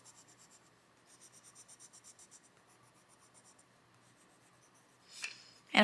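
A pencil tip shades lightly on paper, laid on its side to color in an area, making a soft rhythmic scratching of repeated short strokes, quiet and close, ending in a louder scrape.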